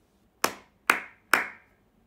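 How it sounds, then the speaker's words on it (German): Three sharp hand claps, evenly spaced about half a second apart, close and clean with short decaying tails against near silence. "Ich kann mit meinen Händen klatschen."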